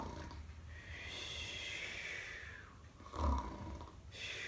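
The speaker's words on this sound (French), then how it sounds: "Je ne sais pas si Jésus ronflait," Jesus sleeping at the back of a boat crossing a lake, in a Playmobil Bible animation, snores in slow, soft, rasping breaths with a louder snort near the end.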